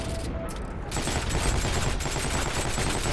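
Sustained gunfire in the Heroes & Generals war video game: a loud, dense fusillade of rapid automatic shots rattling continuously, with a muffled voice briefly under it.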